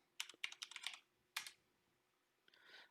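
Close typing on a computer keyboard while entering an Ubuntu container search: a quick burst of keystrokes, a short pause, another brief burst, then a softer stretch of clicking, with no talk.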